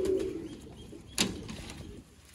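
Pigeons coo low and soft near at hand, with a brief sharp rustle or flap partway through and no talk.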